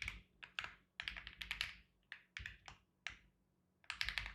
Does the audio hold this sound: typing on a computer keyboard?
yes